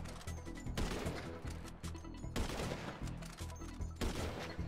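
Rapid bursts of automatic gunfire from a Grand Theft Auto video game session, several volleys crackling in quick succession with brief gaps between them.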